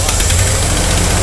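A Ford Bronco engine rumbles steadily through a short, loud burst, a low, rough running sound that fits an engine catching during a startup attempt, with faint voices mixed in.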